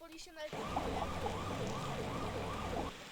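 A police siren in Sonic Adventure wails, sweeping up and down repeatedly, loud and close, after a short burst of other sound at the start.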